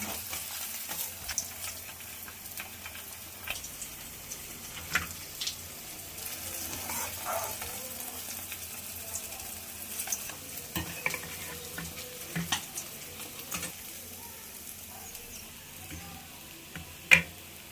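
A soft, steady sizzle of cauliflower frying in oil after rohu fish, with occasional scraping and clinks from stirring, close by and without speech.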